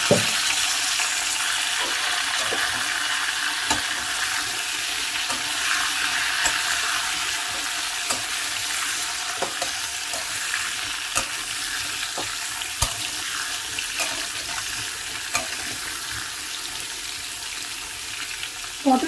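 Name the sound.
pointed gourd (potol) pieces frying in oil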